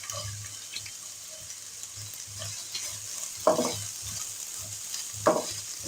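A quiet, steady sizzle of chopped onions and garlic lightly frying in a pan, with a couple of louder scraping stirs and faint clinks.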